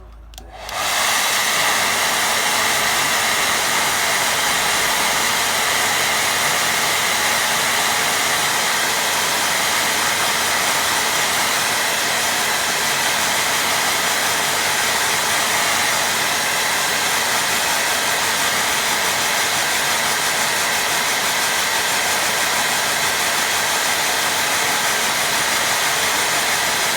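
A hair dryer blows steadily and loudly onto a watercolour painting of grazing sheep, a constant broad whooshing roar that starts abruptly and holds unbroken for almost half a minute with no voices over it.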